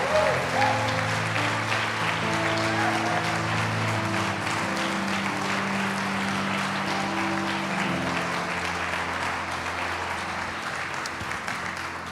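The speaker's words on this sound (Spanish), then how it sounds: "Yo creo que puedes aplaudirle más fuerte al autor de la vida." Sustained church congregation applause during a sermon, steady dense clapping that continues for several seconds, with music or voices humming underneath.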